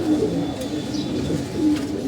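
Pigeons in a loft coo in low, repeated murmurs, close and steady, with someone talking over them.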